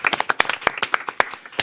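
A small studio audience claps to welcome a guest professor onto a talk show, a brief burst of uneven hand claps at close range.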